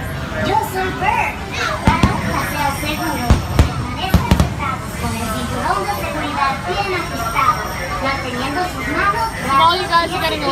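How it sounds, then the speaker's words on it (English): Fireworks at Disneyland boom and crackle in scattered bursts, heard at a distance under a lively crowd of children and adults talking and playing nearby. "All you guys are getting a little bit of Autopia, you're also getting some fireworks."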